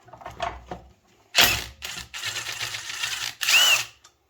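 A power drill works on the 9/16 main blade bolt of a chipper shredder left outdoors for two years, giving several short close whirring bursts separated by pauses.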